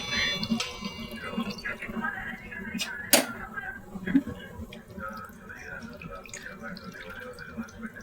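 Water is poured over strained chhana (fresh cottage cheese) for rosogolla, making quiet splashes and drips with a few sharper clinks against a soft background.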